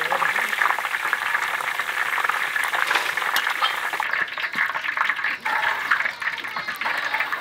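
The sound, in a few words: hot oil frying ginger and scallions for hotpot base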